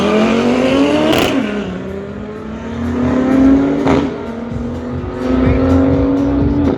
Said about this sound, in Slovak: Neskutočný agregát, 5 valcov, oturbený, veľmi počúvateľný motor.